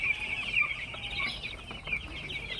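Ten-day-old broiler chicks fill a poultry house with continuous overlapping high cheeps and peeps, a dense, steady flock chorus heard close.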